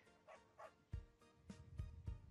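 Dog barking in the video game Always Sometimes Monsters: a few soft high yips, then several deeper, louder barks in an uneven series, close by, with no talking.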